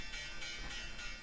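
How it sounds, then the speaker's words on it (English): Stock market opening bell ringing as trading starts, a sustained metallic ring that pulses in a steady rapid rhythm, fairly loud and heard alone without speech. "Here's the bell."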